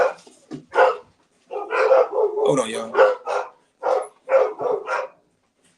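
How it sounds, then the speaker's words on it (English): A dog barks in short repeated bursts indoors, fairly close and loud, breaking in and out while someone talks over it. "Excuse my dog, that somebody must be pulling up."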